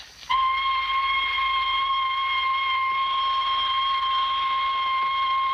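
A loud, steady whistle blows continuously after a brief pause, a sustained piercing tone that holds unbroken for over five seconds.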